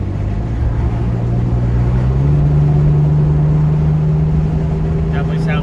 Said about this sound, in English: it's a really smooth exhaust for sure